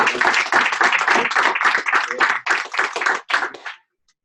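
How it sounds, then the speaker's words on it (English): A training-session audience claps after a talk on as-is contracts, loud and close, with bursts of hand claps that surge, dip twice and stop abruptly before a short silence. "let's give Rick a huge round of applause"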